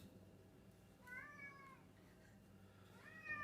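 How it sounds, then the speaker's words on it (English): A house cat gives two drawn-out, whiny meows, the second rising at the end, close by over a low background hum in a kitchen. "There's my whiny cat."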